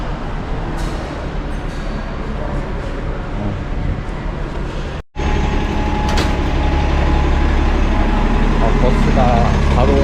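A city bus pulls into a stop in Toronto, a loud steady engine rumble with idling drone that drops out briefly midway and returns heavier, with talk over it.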